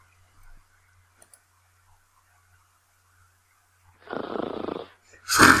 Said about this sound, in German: Man hört Cheep Cheeps schnarchen.